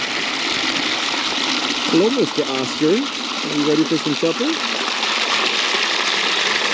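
Fresh water running steadily into containers for animals inside a barn, a continuous splashing stream heard throughout with a person speaking over it partway through.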